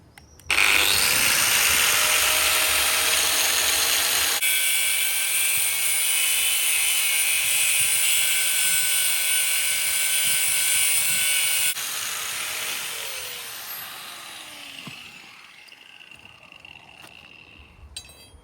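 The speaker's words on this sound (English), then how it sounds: "and we're just going to grind it down" Angle grinder cutting steel rods down to 350 length for a lean-to pergola build, a loud steady high-pitched whine running continuously for about eleven seconds, then dropping in pitch and fading as it spins down.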